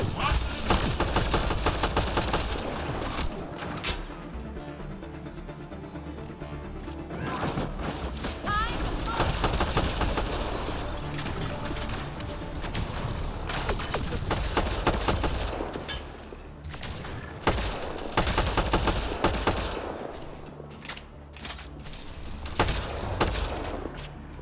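Rapid gunfire from weapons in the shooter game Mass Effect Andromeda, dense bursts and volleys going on almost the whole time amid battle noise, with someone talking intermittently over the shooting.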